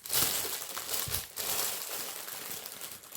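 A tightly wrapped, taped-up package being pulled open, with continuous close crinkling and crumpling of wrapping and brief tearing bursts.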